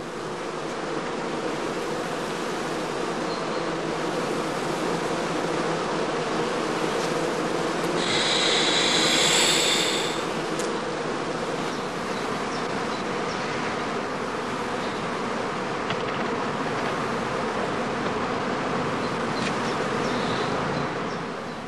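A dense, steady hum of many honeybees around straw skeps holding colonies ready to swarm, a continuous buzzing drone that swells slightly for a few seconds midway, with no voices.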